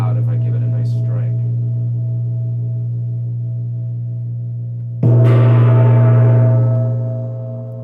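A gong struck close to the microphone rings with a deep, sustained hum that slowly fades, then a second hard strike bursts in loudly with a bright metallic shimmer over the resonant drone.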